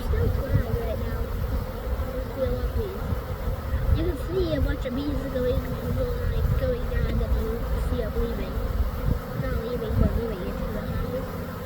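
Dense buzzing of a honeybee swarm at the hives, a continuous close drone with wavering pitches from individual bees, with people talking beneath it.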